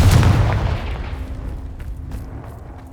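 A Confringo fire spell blast in Hogwarts Legacy lands as a loud, deep boom at the start, then rumbles and fades over several seconds with faint crackles.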